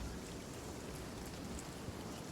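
Steady rain falling through a storm in a video game, a dense even hiss with no clear drops standing out, fairly faint and continuous throughout.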